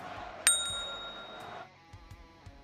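A bright notification bell dings once, sharp and ringing, then fades out slowly with a long shimmering tail, followed by soft faint knocks.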